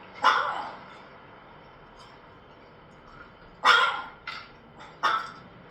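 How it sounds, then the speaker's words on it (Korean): A dog barks a few times in short sharp bursts, with one bark, a pause, then a quick cluster of three, fairly close against quiet background. "왜 이렇게 짖는 거야?"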